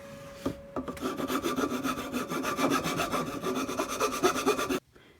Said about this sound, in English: I'm just gonna round it over a little bit with a file.